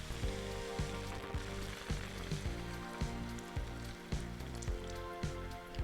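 Bolognese sauce sizzles steadily in a hot pan after wine is poured in, a dense crackling hiss with faint repeated bubbling pops, continuous and fairly close.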